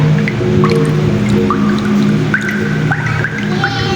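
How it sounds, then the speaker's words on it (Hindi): Water drips from the walls of a hospital basement, a handful of separate plinks at uneven intervals over a low steady ambient hum. "दीवारों से पानी टपक रहा है"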